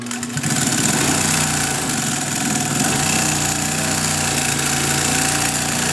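Pfaff 134 industrial sewing machine driven by a clutch motor, stitching through layers of denim: a loud, steady mechanical whir and rapid needle chatter running continuously throughout, close and alone with no talk.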